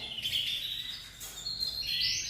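Canaries singing in a breeding room, bright high warbling trills and chirps running continuously, close and clear with no voices.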